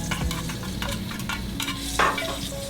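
Bacon strips going into hot garlic-infused oil sizzle and fry steadily close by, with a few stirring scrapes and one brief louder clatter near the end.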